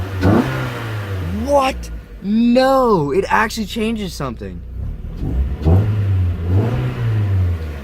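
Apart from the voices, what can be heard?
Mazda Miata engine revving with cheap homemade air intake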